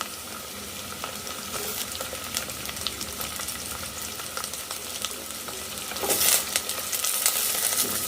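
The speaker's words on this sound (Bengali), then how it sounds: "আমি চিংড়ি মাছগুলো ভেজে নিই তেলের সাথে একসাথে ভেজে নিচ্ছি" Prawns frying in hot oil with onions give a steady, close sizzle with occasional stirring scrapes, swelling slightly louder near the end, with no voices.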